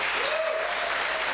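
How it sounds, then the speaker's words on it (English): Sustained audience applause fills a conference hall at a closing ceremony, dense and steady throughout, with a faint tonal hum running beneath the clapping and no voices on top. "Applause."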